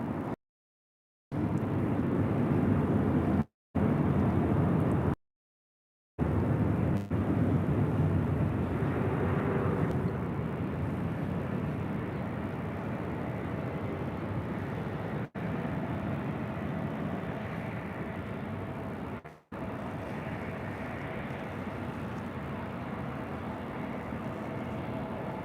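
Southwest Airlines Boeing 737-800 taking off at LAX, a loud sustained jet engine roar, broken by several short dropouts early on, then easing into a steady, slightly fading drone.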